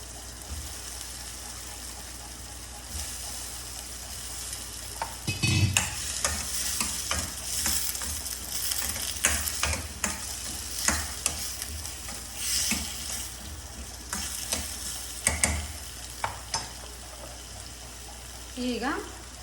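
Chopped brinjal sizzles in a hot pan with cooked tomato, under a continuous frying hiss broken by repeated scraping stirs, close and fairly loud, with a brief voice partway through.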